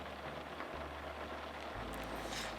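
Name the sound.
rain falling on a van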